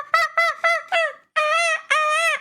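Bright, repeated bird-like calls come in a quick series of short notes, then two longer drawn-out calls, clear and close against a quiet background.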